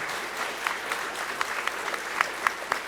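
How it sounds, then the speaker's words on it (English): A room applauds a panel at an Indigenous data governance masterclass, a steady wash of clapping with a few sharper individual claps standing out, fairly close and continuous throughout. "Please give them a big round of applause once more."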